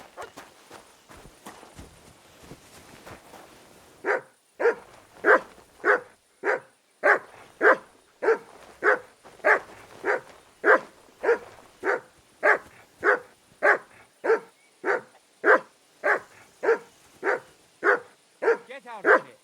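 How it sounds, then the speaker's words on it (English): A dog in Kingdom Come: Deliverance II barks in a long steady series of about two dozen sharp, evenly spaced barks, fairly close, following a few seconds of faint ambient noise. "No one wants to hear your barking."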